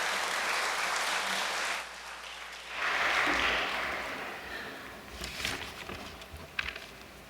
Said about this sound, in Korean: 우리 단상으로 모실 때 큰 환영의 박수를 보내주시면 감사하겠습니다.